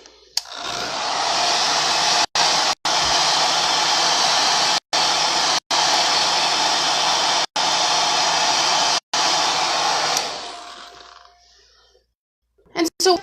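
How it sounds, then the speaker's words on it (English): A hair dryer blows loudly and steadily to dry chalk paste on a bunny craft, switched off and on in several short breaks before winding down to silence. "We'll take the hairdryer and make sure he's good and dry, though."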